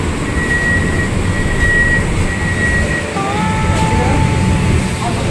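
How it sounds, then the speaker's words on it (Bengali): A Sealdah–Ranaghat AC local train pulls into Kalyani station, a loud close rumble with sustained tonal whines that shift in pitch partway through as the train slows. "আমাদের ট্রেন এই কল্যাণী স্টেশনে চলে আসলো"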